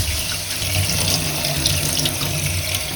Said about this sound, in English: in the meantime, we are going to rinse the farro.